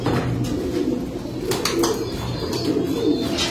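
Pigeons coo softly and repeatedly at close range, low throaty calls rising over a quiet background with a few brief flutters and rustles.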